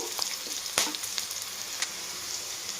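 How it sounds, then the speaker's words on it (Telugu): Ginger garlic paste fries with onions in a pan. A steady close-up sizzle runs throughout, with light crackles and occasional stirring clicks and no voices. "అల్లం వెల్లుల్లి వేసుకొని కొంచెం వేయించుకోవాలండి"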